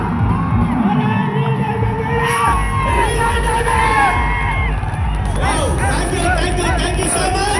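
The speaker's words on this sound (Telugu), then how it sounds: "ఒకసారి గట్టి క్లాప్స్ అవ్వాలి బాసా సార్కు" A festive crowd at a diamond function ceremony honoring a guest cheers and shouts steadily throughout, loud and close, with whoops and yells rising over a dense babble of voices.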